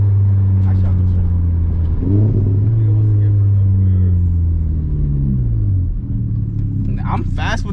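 Up close in the cabin, a VW MK4 GTI fitted with a short shifter revs and drops through gear changes, its engine note rising, then falling in long sweeps under a loud rumble, with voices briefly over it.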